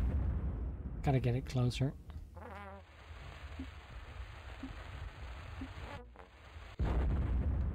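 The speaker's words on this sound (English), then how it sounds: "I guess we just throw the dynamite at the other one and it will light on fire." Dynamite explodes in the video game Yono and the Celestial Elephants, a broad rumbling blast that swells, then a sharper loud burst near the end, with a person talking over the start.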